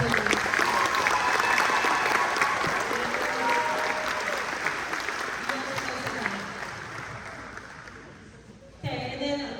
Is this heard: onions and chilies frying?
no